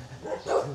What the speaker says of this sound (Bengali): আর এখানে এগুলো মনে হয় বিদেশি ডগ।